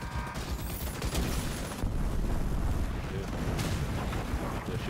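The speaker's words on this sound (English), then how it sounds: "Aw, mortar." Mortar and gunfire from a video game raid, Operation Iron Horse against Colonel Morozova, rumbling in a dense, continuous barrage of low booms and blasts that stays loud from start to finish.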